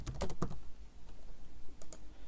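Keyboard typing on a computer while entering a new user's details: a quick burst of clicky keystrokes at the start, a lull, then a few more taps near the end, close and clear.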